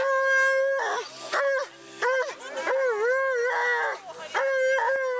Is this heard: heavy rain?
no